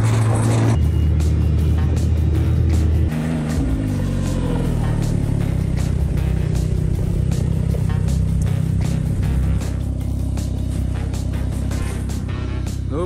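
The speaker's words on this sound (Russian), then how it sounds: "Сейчас оставляем, перегрузили все на снегоходы. и едем." Snowmobile engines rev up and pull away on a snowy track near a taiga Old Believer village, a loud steady motor drone with rising pitch shifts as the loaded machines set off.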